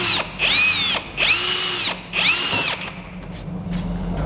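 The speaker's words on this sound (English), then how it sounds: "we're going to drill each of these out with a small bit first" A power drill with a small bit whines up to speed in three close, loud bursts about a second each, drilling into a duck boat, then falls quiet to a low background hum.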